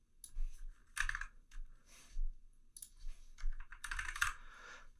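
Someone types on a computer keyboard in a quiet room, with irregular bursts of soft clicking keystrokes separated by brief pauses, close and fairly faint.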